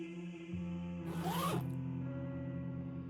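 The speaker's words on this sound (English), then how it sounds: "the zip makes a familiar zzz sound" A body bag's zipper pulled open in one quick continuous zip, close and crisp, over a steady low background hum.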